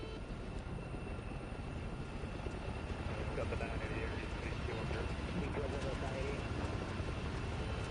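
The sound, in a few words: helicopter flying, modded chopper in a flight game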